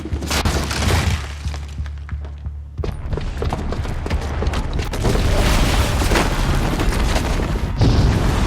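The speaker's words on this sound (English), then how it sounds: "the booby trap on the bomb downstairs is gonna get set off" A bomb booby trap detonating in the game Horizon Zero Dawn: a sustained roar of rumbling blast and crashing debris, loud and continuous throughout, with a brief lull before the noise surges back.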